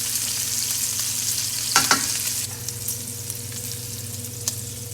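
Meat rendering and frying in a pan for spaghetti all'amatriciana, a steady close sizzle with a few sharp crackles and utensil clicks.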